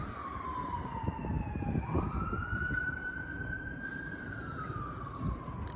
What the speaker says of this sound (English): you probably all hear that, the sirens